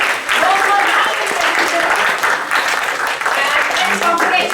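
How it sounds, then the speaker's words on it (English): Applause from an audience at a school assembly, steady, dense clapping that continues throughout without a break. "So huge round of applause for everyone."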